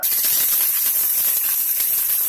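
Organic virgin coconut oil in a pan over medium heat, giving a steady, loud, close hiss that carries on without a break and with no talking.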